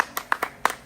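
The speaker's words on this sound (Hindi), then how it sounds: "ताली बजाइए, ताली।" A handful of sharp, separate hand claps, near and fairly quiet, spaced irregularly over about a second, with no talk over them.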